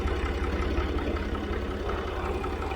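A Massey Ferguson 50 tractor engine idles steadily and close by, a continuous low diesel chug with its power take-off being engaged.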